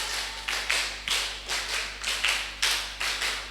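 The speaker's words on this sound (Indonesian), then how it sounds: "Oke, terakhir 5 kali tepuk" A group at a school student leadership event claps in unison, a series of crisp, even claps, close and loud over a steady low hum.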